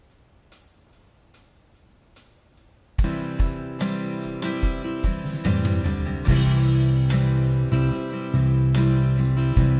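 An electronic keyboard plays its shorter built-in intro number 2: light ticking percussion for about three seconds, then the full arrangement enters loud with bass, chords and drums, holding a steady rhythmic groove to the end.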